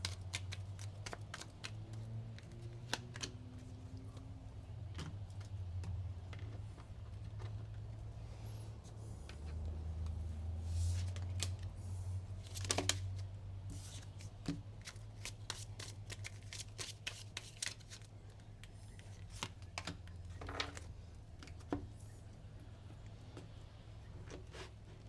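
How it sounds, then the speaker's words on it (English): Tarot cards are drawn out of a deck and shuffled by hand, giving a continuous close riffle and flutter of cards with frequent crisp slaps and taps, all at a steady moderate level. "I'm going to grab all the cards out and then we will go from there"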